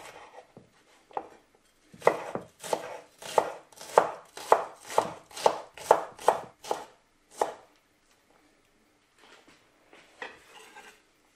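A knife chops a shallot on a board in a quick run of about a dozen crisp, evenly spaced cuts, close and clear, followed by a few softer taps.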